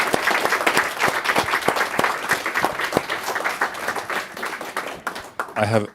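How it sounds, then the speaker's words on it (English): Audience applause at a journalism lecture honoring Shireen Ahmed, a dense wash of many hands clapping steadily for several seconds, with a few louder individual claps and a voice briefly cutting in near the end. "So everyone, a round of applause, please."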